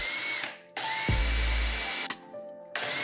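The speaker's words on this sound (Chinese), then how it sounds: "今次就用比螺丝粗少少嘅转嘴嚟转窿" A power drill fitted with a bit slightly thicker than a screw bores a hole in wood for a homemade har gow wrapper press. It gives one loud, steady burst of about a second amid quiet workshop noise.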